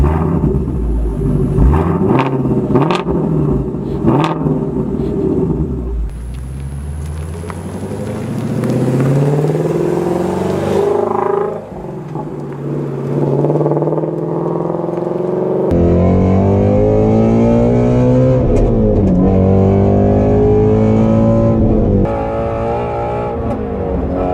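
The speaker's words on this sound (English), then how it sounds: "I never close the exhaust valves on this thing. It sounds awesome." A Shelby GT350 Mustang with its exhaust valves open, loud close-up engine revving that repeatedly climbs and falls in pitch, deep rumbling between pulls and sharp pops, with no talking.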